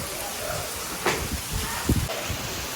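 Heavy monsoon rain pours down in a dense, steady hiss, with a few brief louder splashes or knocks breaking through, and no clear talking.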